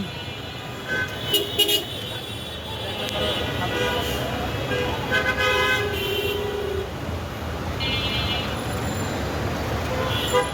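A rain-soaked traffic jam at a busy roundabout, with short car and bus horn toots scattered over continuous engine and road noise, some horns close and others farther off, and a voice occasionally talking.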